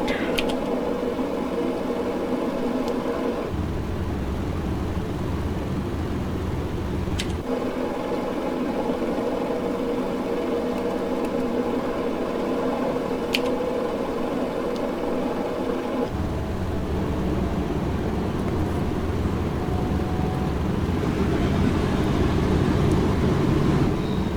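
Boeing B307 airliner's number 3 piston engine starting in a flight simulator, a steady droning engine hum that shifts in pitch and layering partway through, continuous and fairly loud.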